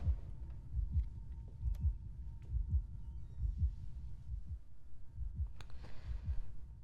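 A low, thudding heartbeat pulses steadily under a faint hum and hiss in a tense scene from the series Daredevil: Born Again, with a brief sharp noise burst near the end.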